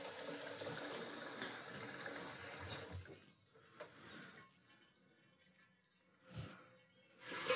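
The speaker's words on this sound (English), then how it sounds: "in a second we'll use that to provide a source of clean water to rinse out our secondary fermenter" Water rinses and sloshes inside a secondary fermenter for home brewing, a strong rushing flow at first that thins to quieter trickles and a few splashy swirls, no voices.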